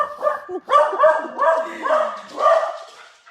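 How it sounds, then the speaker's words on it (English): A dog barks and yips repeatedly nearby, a series of loud, whiny barks in an uneven rhythm, mixed with a slight whimper. "that's my dog going a little bit"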